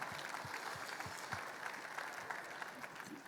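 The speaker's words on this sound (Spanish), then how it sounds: "Dale ese aplauso al Señor, alábale." A church congregation applauds during worship, a steady, faint wash of many hands clapping in the distance with a low rhythmic thump underneath.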